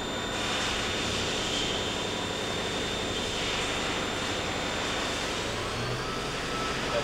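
The German-made Weiss spindle of a Hardinge VMC 1000XP3 vertical machining center spins at high RPM, giving a steady, sustained high whine over a broad mechanical roar that stays constant and close throughout.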